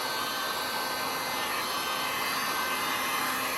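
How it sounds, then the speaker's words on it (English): A steady, loud rush of blown air, like a hair dryer or air blower, spreading silver through a resin dirty pour on a tray. The sound stays constant and close throughout with no talk. "I'm just going to kind of blow this line around and blow some of the silver out."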